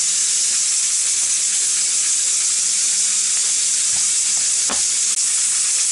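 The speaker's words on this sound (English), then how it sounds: "I just hope y'all can hear this steaming, just cooking right away." A pressure cooker full of chicken steams on a stovetop, giving off a loud, steady, broadband hiss that runs unbroken throughout, with faint clicks and rattles underneath.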